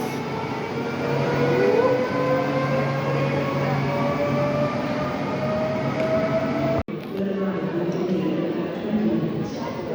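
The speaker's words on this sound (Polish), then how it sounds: "Pociąg idzie do Katowic N78A009 i odjeżdża z Krakowa do Katowic." Train pulling out of Kraków Główny station bound for Katowice, a loud continuous rumble with rising motor whine and rail noise, steady throughout with a brief cut near the end.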